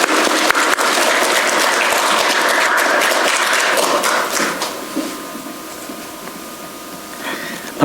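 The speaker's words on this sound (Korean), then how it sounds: "네, 우리 박수로 환영하겠습니다." A church congregation at a mission Sunday service claps to welcome a missionary, a dense, loud round of applause that fills the room and then thins and fades toward the end.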